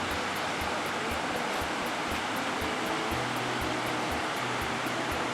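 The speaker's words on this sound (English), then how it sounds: "Giant waterfall." Cohoes Falls near Albany, New York, a giant waterfall giving off a continuous broadband roar of rushing water that stays steady and loud throughout, with a faint rhythmic clicking underneath.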